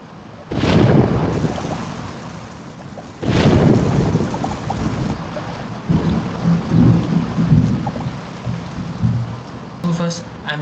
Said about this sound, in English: the transformation of a peaceful river setting into the thunderstorm